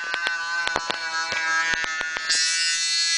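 Small levitating neodymium magnet motor spinning at very high speed, a steady high-pitched electric whine with a sharp repeated ticking running through it, growing brighter and louder toward the end.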